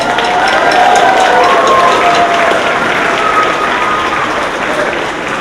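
An audience at an evening commencement ceremony breaks into loud, sustained applause that fills the hall and eases off slightly toward the end, with faint voices mixed in.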